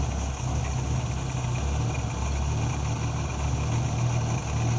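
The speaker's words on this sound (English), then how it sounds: "On an old Ford, you don't want to have your idle too high." An old Ford 200 inline six idles steadily at low speed, a continuous close rumble with a low, even throb and no talking.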